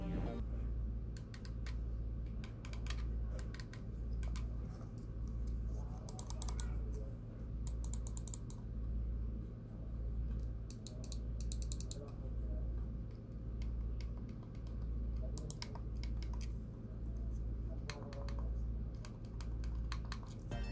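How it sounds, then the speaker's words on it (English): A Rakk Dasig gaming mouse is clicked over and over, making crisp, light, close clicks in irregular bursts over a faint steady hum. "here's the sample for the click sounds"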